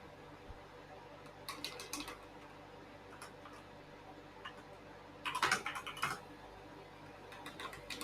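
Keys clatter on a computer keyboard in short irregular bursts, quiet and close, with a louder flurry of typing midway and pauses between.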